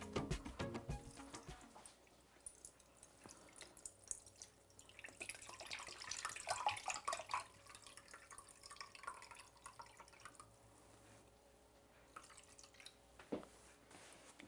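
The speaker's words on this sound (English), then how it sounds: "We are going to strain off 1 cup of the yeast water." Yeast water for a sourdough starter drips and trickles through a strainer into a cup, with soft irregular splashes and a brief pouring stretch, quiet and close.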